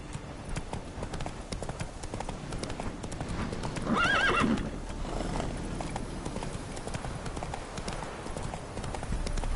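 A horse gallops with steady rapid clip-clop hoofbeats, with a shrill whinny rising partway through above the drumming hooves, close and continuous.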